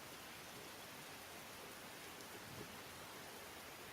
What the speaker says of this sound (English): And do rain sounds because I can't help myself.